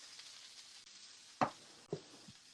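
Soft, quiet sizzling of garlic frying in a cast iron pan, with a couple of sharper spatters and stirring scrapes.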